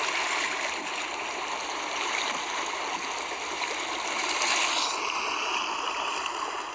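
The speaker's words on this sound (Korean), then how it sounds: "이 바닷소리가" Sea waves wash in a continuous, steady broadband roar with no clear breaks, heard alone without speech.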